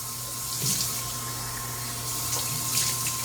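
Water runs from a tap as a phone is rinsed under it, a steady close splashing stream with faint shifts as the flow hits the phone.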